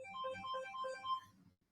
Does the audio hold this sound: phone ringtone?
yes